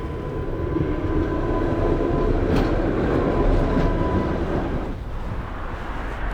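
A tram rumbles past close by in Budapest, a steady loud low roar with faint metallic squeal, easing off toward the end.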